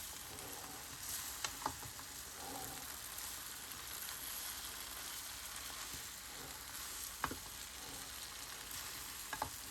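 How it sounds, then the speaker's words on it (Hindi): Chicken and vegetables for fajitas fry and sizzle steadily in a pan, with occasional scrapes and clinks of a spoon stirring them, continuous and close with no talking. "अब इसमें शामिल कर देते हैं चिकन और इसको अच्छी तरह मिक्स कर लेते हैं।"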